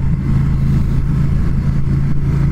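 A 2019 Triumph Speed Twin motorcycle engine drones steadily and close, a low even hum that holds without revving changes throughout, with no voices.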